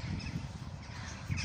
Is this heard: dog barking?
no